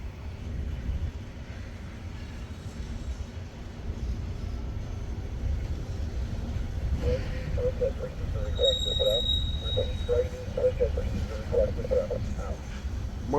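A long, low rumble of a long freight train rolling past at a distance, steady and continuous, with faint squeals and rattles of wagons mixed in.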